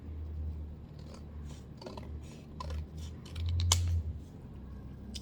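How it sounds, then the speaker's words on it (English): Scissors snip through scrap cardstock in a few short, crisp cuts, close and clear over a low steady hum, with no talking. "I'm going to grab my scissors and I'm going to go ahead and even this out"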